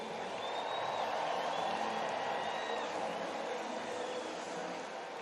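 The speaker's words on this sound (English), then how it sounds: "Nice round of applause for Adam Wainwright." A baseball stadium crowd at a Pirates vs Cardinals game applauds pitcher Adam Wainwright, a broad, steady wash of clapping and cheering with a few whistles, a little distant and constant throughout.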